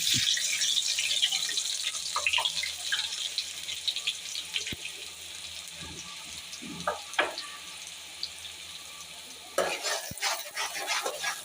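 Chopped onions hit a hot pan for a chicken salan, giving a steady frying sizzle with scraping stirring strokes and a few louder clatters, close and alone with no talk.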